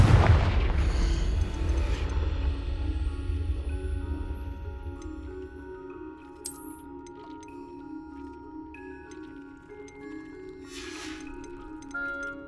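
A Confringo fire spell bursts in the Hogwarts Legacy video game with a heavy, booming explosion at the start that decays into a lingering rumble, followed by soft tonal game effects and a faint bright shimmer.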